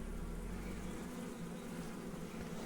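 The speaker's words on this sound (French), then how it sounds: "Je ne vous embête pas plus, les filles." Honeybees buzz inside an opened Voirnot beehive during a spring inspection, a faint, steady, close hum with no voices.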